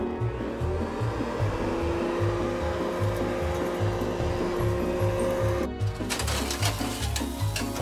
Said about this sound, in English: And now let's wash up the table and vacuum.